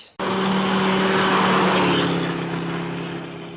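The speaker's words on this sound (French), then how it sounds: "Ah non, une voiture semble s'arrêter." A car engine drones steadily beside a roadside after an abrupt start, loud and near, then fades gradually as the vehicle slows.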